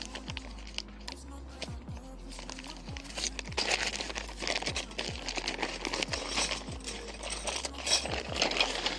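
A small pack of windbreak pegs is handled close up, giving irregular metallic clinks, crinkles and rustles under a low steady hum.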